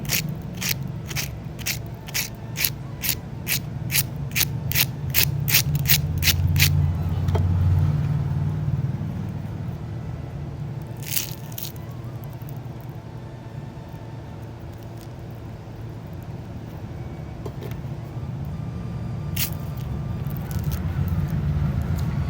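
Rapid crisp crunches and snaps of a crispy fried poha and besan snack at the start, then a steady low rumble with occasional faint crackles; no talking.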